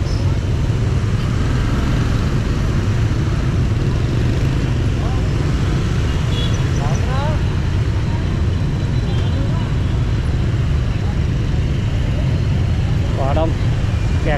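Congested street traffic beside a busy market, with motorbikes and cars idling and creeping in a dense, constant rumble, a few horn toots and faint voices mixed into the steady din.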